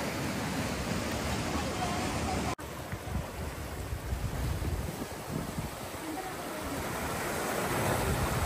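Strong ocean waves at high tide near a cave, heard as a continuous rough wash of surf mixed with wind buffeting the microphone, with one sharp break in the sound partway through.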